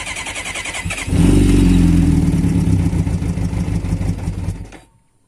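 A Kawasaki ZZR motorcycle cranks with the starter whirring, then fires and catches into a loud, rough running engine for a few seconds before cutting off abruptly.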